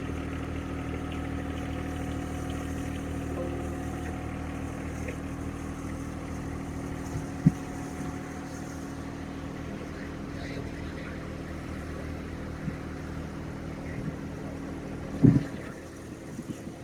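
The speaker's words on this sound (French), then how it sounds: "Le tracteur ne semble pas avoir trop de difficultés à bouger le poulailler" A tractor towing a chicken coop idles and rumbles low and steadily throughout, with a couple of sharp knocks partway through and near the end.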